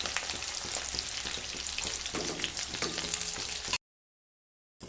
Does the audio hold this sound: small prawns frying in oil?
yes